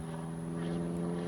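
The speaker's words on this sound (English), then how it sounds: "I'm sorry about that plane" A steady, moderately loud drone of an airplane flying overhead above a backyard garden, continuous throughout with no one talking.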